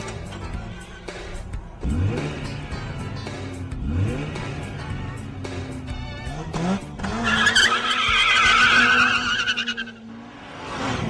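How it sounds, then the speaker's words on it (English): A Mazda RX-8 rips through a fast hot lap at Laguna Seca, its engine revving hard through repeated upshifts and surging pulls, with tires squealing loudly through a long corner near the end, heard close from inside. "Let's go take a fast hot lap around this great racetrack in a Mazda RX-8"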